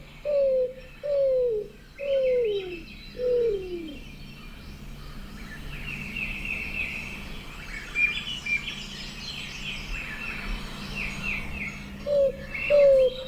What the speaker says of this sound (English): I've got the Roadrunner call.